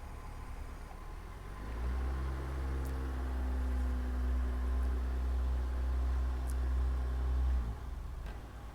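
A 2024 Genesis GV70 AWD 3.5T Sport Prestige creeps forward under remote smart parking assist, a low steady engine hum that swells in after a couple of seconds, holds evenly, then drops away, close by with light clicks.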